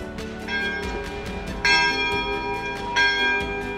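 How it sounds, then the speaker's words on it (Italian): Church bells ring out close by on Mount Sinai, Egypt, several overlapping strikes sounding in a loose rhythm, each clang ringing on over the last. "si possono suonare le campane"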